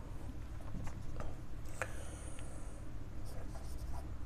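A point is written on a classroom board, faint scratchy strokes and light taps of the writing tool against a steady low background hum.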